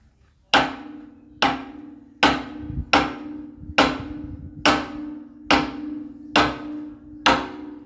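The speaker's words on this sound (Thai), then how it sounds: "เคาะเคาะเคาะเคาะมันก็ค่อยเข้าแล้วนั่นน่ะ ค้อนใหญ่อ่ะ" A large hammer taps a bushing into a dump bucket pin joint, delivering eight sharp, evenly spaced metallic strikes, each ringing briefly before the next, loud and close with no talk.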